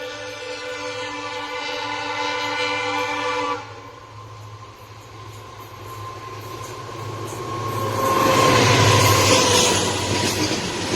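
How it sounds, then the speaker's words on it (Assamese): A green and sky-blue passenger train in Assam sounds its horn, a loud, sustained tone for several seconds, then a steady rail rumble continues and swells as the train passes close by. "ৰেলগাড়ী যায়।"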